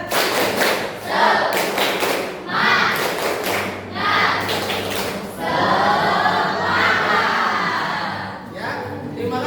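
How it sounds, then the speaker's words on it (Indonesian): Indonesian schoolchildren in a classroom perform a rhythmic clapping chant, loud patterned bursts of claps and thumps alternating with shouted group chanting in close, boisterous unison. "Silakan tepuk semangat dulu ya."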